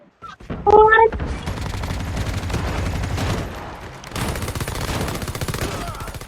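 Gunfire in a shooter video game, dense continuous crackling shots that go on for several seconds after a brief high chirp at the start.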